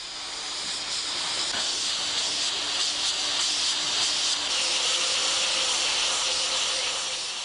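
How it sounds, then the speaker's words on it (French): Steady loud hiss of a welding torch working PVC welding rod into a joint, continuous and close for the whole stretch, with no breaks or voices. "intervient la deuxième étape de soudure au chalumeau"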